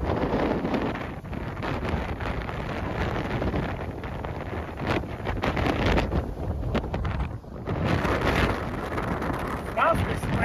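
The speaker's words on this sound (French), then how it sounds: "le vent est tellement fort" Strong wind buffets the microphone in a steady roaring rush on a mountain on Iceland's Snaefellsnes peninsula, gusting louder and softer throughout, with no clear voices.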